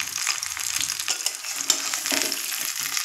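A thick mango pickle with jaggery and sugar is stirred slowly in a pan, giving a steady soft bubbling sizzle with faint scraping strokes of the spoon, close and continuous with no voices.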